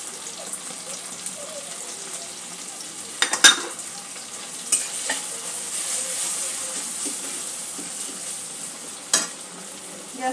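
Ground spices, including turmeric, chili, cumin and coriander powder, fry in a pan over a low gas flame with a steady soft sizzle and hiss. A few sharp scrapes and clinks from stirring break through, and no voices are heard.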